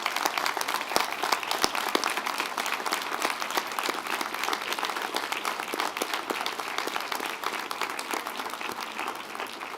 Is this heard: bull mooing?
no